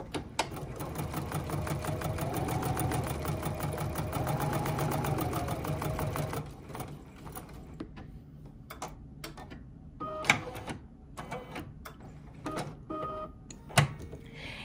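A Bernina 880 plus sewing machine hums through a serpentine stitch for about six seconds. Then it stops, leaving scattered clicks and small handling knocks.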